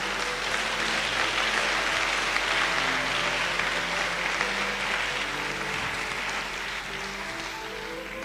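A church congregation applauds together in a sustained, even wash of clapping that fills the room and fades slightly toward the end.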